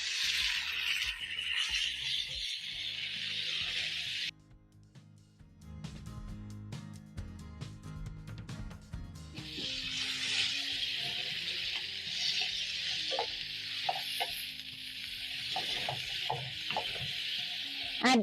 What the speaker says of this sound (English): When your onion is ready, you're going to add in your liver.